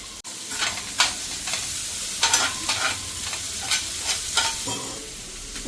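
Onion and garlic sizzle steadily in a hot pan, a continuous close frying hiss broken by several brief scraping stir strokes, with no one talking.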